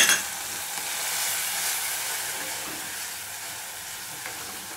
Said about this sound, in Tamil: வத்தல் பொடியை போட்டுரும், அதையும் போட்டு நல்லா கிளறணும்